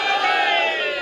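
Chanting slogans from a crowd at a majlis aza gathering in Karor, a brief sustained mass of voices shouting together at moderate loudness.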